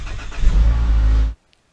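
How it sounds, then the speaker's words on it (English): A Mazda Skyactiv engine idles fast just after a cold start, a loud, close, steady mechanical drone that holds for about a second before cutting off abruptly into silence. "when you start up your vehicle when it's cold, what happens is the engine speed's gonna run a little bit faster."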